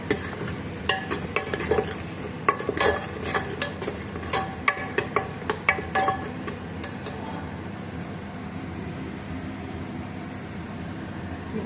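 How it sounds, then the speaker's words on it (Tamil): Onions and green chilies sauté in hot oil in a pan, a low sizzle underneath with a run of sharp scraping clicks from a stirring spoon in the first half, then a quieter steady fry. "அந்த எண்ணெயிலேயே இந்த வெங்காயம் பச்சை மிளகாய் நல்லா வணங்கிடணும்."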